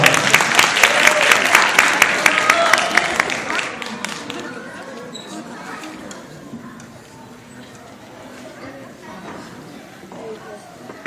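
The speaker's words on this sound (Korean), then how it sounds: "박수로 맞아주세요." Audience applause at a children's church Christmas Eve comedy and percussion show, dense clapping loud at first and thinning out after a few seconds as a voice begins talking.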